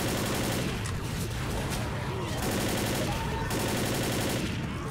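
Rapid automatic gunfire from the video game Left 4 Dead, a steady and loud barrage of overlapping shots that runs unbroken through the whole stretch.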